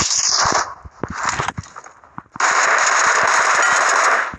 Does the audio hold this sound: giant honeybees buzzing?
no